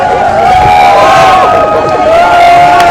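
A dense crowd cheers and shouts at a farmers' gathering where a tractor performs stunts. The roar is loud and close, with high yells rising over it for a few seconds.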